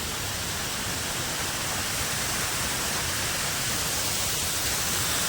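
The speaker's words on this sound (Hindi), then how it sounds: "यहाँ पे बहुत ही प्यारा झरना।" Himalayan mountain waterfall on the route to Adi Kailash, a continuous broadband rush of falling water, steady and enveloping, with no voices over it.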